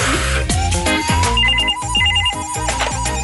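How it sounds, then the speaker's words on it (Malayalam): A household telephone rings indoors with a loud repeating electronic ringtone, warbling tones sounding continuously throughout. "നീ പോയ ഫോൺ എടുക്ക."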